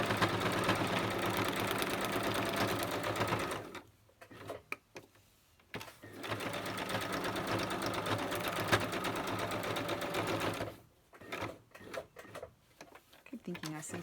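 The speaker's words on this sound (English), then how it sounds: "So I'll bring my sewing machine back over, and I'm just going to whiz around with straight stitch." Sewing machine running a straight stitch on junk journal paper pieces, a close steady mechanical whir in two long bursts separated by a brief pause, with handling noises between.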